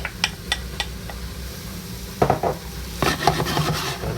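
Cut roti for Sri Lankan chicken kottu stir-fried in a hot pan over high heat, with sizzling under sharp scrapes and clanks of a utensil against the metal, close and fairly loud with no talking.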